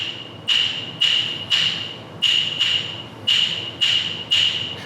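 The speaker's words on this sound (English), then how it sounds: "that clave sounds like this" Wooden clave sticks struck in a rhythmic clave pattern, about eight bright, sharp, ringing clicks in short groups with clear gaps, close and loud with no talking.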